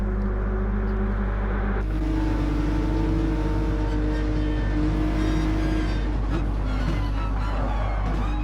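Nissan GT-R race cars of K&N Racing battling for the lead at Monza, engines droning loudly and continuously with a strong low hum and rising revs as cars pass close by.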